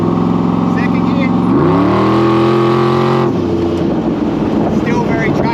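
An 800 hp 427SC Cobra accelerating hard in second gear, its loud engine note climbing steadily in pitch, then dropping as the revs fall, with a voice heard briefly.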